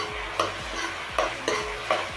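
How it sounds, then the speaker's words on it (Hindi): A spoon stirs veg soup with turmeric and red chilli powder in a pot, landing four distinct clanking scrapes over a soft, constant sizzle. "अब इसे हम अच्छे से मिलाएंगे।"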